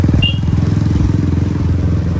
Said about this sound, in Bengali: আর এই যে এক্সস্টের সাউন্ড